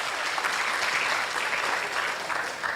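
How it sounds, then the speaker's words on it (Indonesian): Audience at the PIMNAS 38 mascot and logo launch at Universitas Hasanuddin applauds steadily throughout, a dense, even wash of many hands clapping with no voices on top. "Tepuk tangan dulu untuk kita semua."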